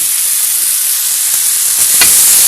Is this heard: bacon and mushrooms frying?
yes